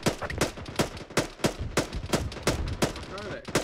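Rapid rifle gunfire from a military ambush exercise, about a dozen sharp close shots in quick uneven succession over a few seconds, loud and punchy.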